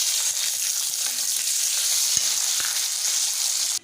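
Tomatoes go into hot oil with ginger and garlic for a masoor dal curry, giving a steady, close sizzle with faint clicks of stirring.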